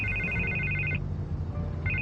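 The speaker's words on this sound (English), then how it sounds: "I can't get the phone to stop ringing." A phone ringtone trills in the Telltale Batman video game, a steady electronic ring that stops briefly and starts again, moderately loud over a low background hum.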